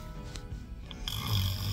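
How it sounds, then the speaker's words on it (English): A person snores in a short, close rasping breath, rising into a louder rumbling snort near the end, with no talk. "You were totally just snoring a second ago."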